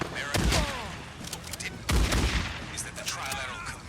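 Gunfire in the video game Days Gone: two loud, close bursts of shots about a second and a half apart, each with a sharp crack and a rolling echo tail.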